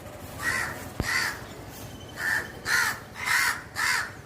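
A crow chick, the last surviving fledgling of two, caws from its nest as it gets ready for its first flight, with six or so harsh calls spaced at uneven intervals, close and clear over faint outdoor background.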